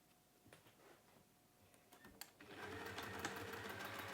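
Faint handling taps give way to a sewing machine stitching a scrappy handled fabric pouch, its motor settling into a continuous hum for the last couple of seconds.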